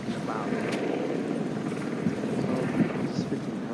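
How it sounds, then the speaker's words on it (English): A helicopter passing overhead, a steady broad rotor drone with wind buffeting that holds at a constant level throughout, set against outdoor background noise. "Oh, this freaking helicopter"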